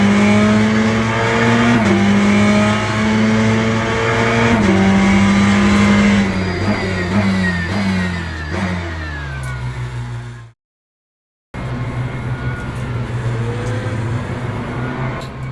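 Race car engines rev hard at the start of a Le Mans Ultimate race, loud overlapping engine notes climbing and shifting through gears, one brief silent gap, then engines roaring on again.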